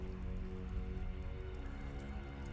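Rain and dripping water inside a damp cave in the Resident Evil game, a steady soft patter of drops running continuously at low volume with no voices over it.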